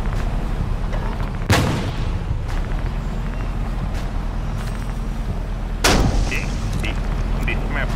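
A TR-5 tank in the War Machines game fires two heavy, booming shots a few seconds apart over a dense, steady rumble of engines and battle noise.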